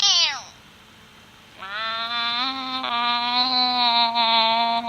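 A cat meows in a drawn-out, whining call, with a short falling cry at the start, a pause, then a long sustained wavering yowl held close and loud.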